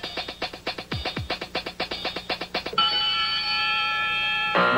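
A rapid run of electronic beeps ticks out, followed by a loud, sustained buzzer tone that holds steady for about two seconds, on the 1993 Scrabble game show.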